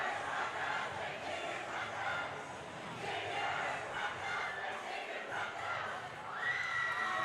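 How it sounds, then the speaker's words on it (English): Crowd at a high school boys' varsity basketball game roaring and shouting, with cheerleaders, a sustained loud mass of voices swelling and surging throughout. "And the crowd is ignited"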